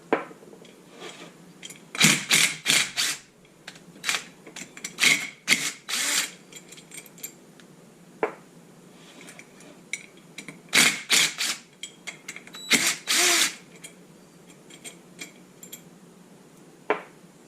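An extended T25 driver loosens clutch spring screws on a Ski-Doo P-Drive, giving irregular bursts of metallic ratcheting and clicking with quiet gaps between them, close and fairly loud.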